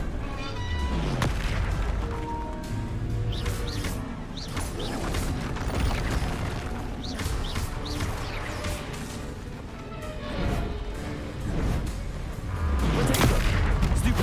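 Confringo and Bombarda blast spells in Hogwarts Legacy, fired repeatedly during combat: a steady run of booming impacts and crashes, moderately loud, with the heaviest burst near the end.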